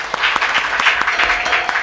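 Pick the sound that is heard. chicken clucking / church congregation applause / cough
church congregation applause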